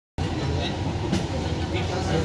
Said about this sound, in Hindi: इस मेट्रो में भाई बैठ गए हैं और ये मेट्रो जाएगी लखनऊ चारबाग से मुंसिपुलिया